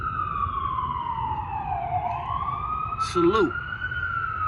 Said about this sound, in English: You know the sirens always go off here.